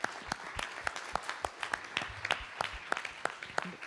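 Sparse, faint applause from a small audience at a French round-table discussion on new distribution circuits: a handful of distinct, irregular claps spaced apart, quiet and somewhat distant with no talk over them.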